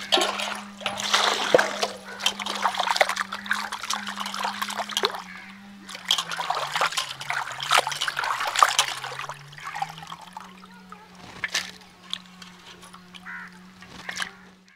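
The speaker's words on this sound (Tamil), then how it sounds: "இப்போ மீன்லாம் நல்லா அலசிட்டு வந்துட்டேன்." Small fish are rinsed by hand in water, giving repeated close sloshing and splashing in uneven bursts over a low, steady hum.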